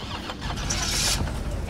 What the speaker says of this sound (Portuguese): Bora, carro pega, carro.